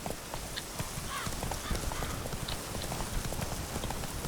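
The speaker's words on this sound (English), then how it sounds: "Run, Roach" A horse gallops in The Witcher 3 video game, its hoofbeats a quick, even clip-clop under a soft, constant background hiss, heard at low volume throughout.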